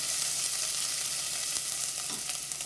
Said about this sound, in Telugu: ఇప్పుడైతే ఎర్రగడ్డలు, పచ్చిమిరపకాయలు బాగా వేగిపోయినాయి